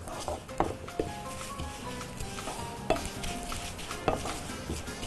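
Lentil soup ingredients stirred in a pan on the stove: a spoon scraping and knocking against the metal in irregular strokes, with a soft sizzle underneath and a few sharper clinks, close up.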